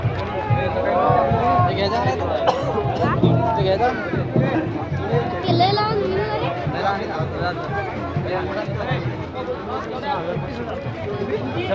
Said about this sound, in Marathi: अशी गर्दी आहे.